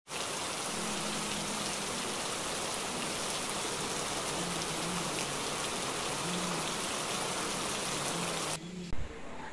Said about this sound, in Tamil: காலையிலே இங்கெல்லாம் நல்ல மழை பெஞ்சிட்டு இருக்கு.